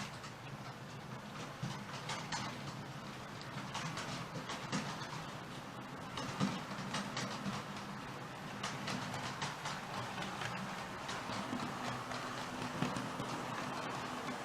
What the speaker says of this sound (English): It's nice to actually sit up here and have the trains running.